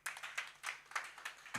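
Church congregation clapping together at a Sunday service, a rhythmic run of about six sharp beats at an even pace, fairly faint and without talk.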